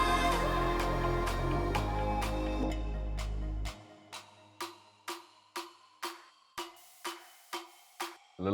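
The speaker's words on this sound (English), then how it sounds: "A little white noise, some snaps." Sustained noise and a droning synth bed give way to a steady run of crisp finger snaps, about one per half second, each clear and close with a short tail, in an electronic dance track.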